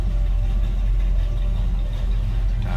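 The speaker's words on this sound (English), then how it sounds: "As you can hear, sounds like we have a little bit of a cam to it." A 1966 Chevrolet C10 Custom regular cab's engine idles steadily and fairly loud, a deep continuous rumble with a slight uneven lope from the cam, running alone without talk.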